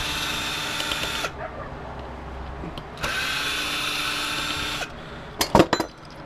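A power tool whirs in two sustained runs, then gives a few quick bursts, while backing screws out of a cold mist humidifier being taken apart for scrap; close and loud, no talking.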